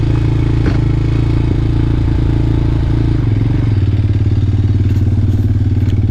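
A Honda TRX250 ATV engine with a freshly cleaned carburetor idles high and loud up close, a steady rapid single-cylinder chug that settles into a lower, smoother beat partway through, with some mechanical clatter.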